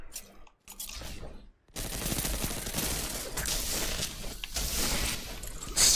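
Rapid gunfire from a Destiny 2 PvP match, with dense bursts of shots that start sparse and then run almost continuously, loud and close, with a sharp spike at the end.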